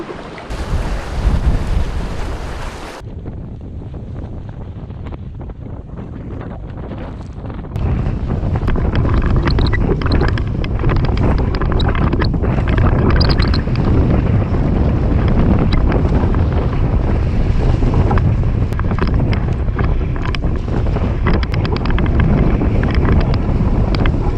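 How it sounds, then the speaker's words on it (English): Strong wind blasts over open water on a wilderness canoe trip in Canada's north, roaring heavily into the microphone with rushing gusts, briefly easing before surging back louder and sustained. "Absolutely insane wind."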